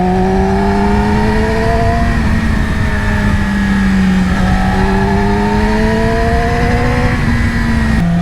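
A 2020 Yamaha R6 sport motorcycle with stock exhaust revs loudly and steadily near the listener on twisty mountain roads, pitch rising and falling through gear changes with a smooth, throaty exhaust note.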